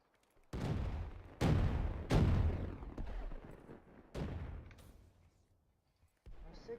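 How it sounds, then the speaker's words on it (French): In a hardcore Breach match of Black Ops 3, loud booming explosions and gunfire erupt in about five heavy bursts, each rolling off into a decaying rumble, with short pauses between them. "On se calme avec les explosions."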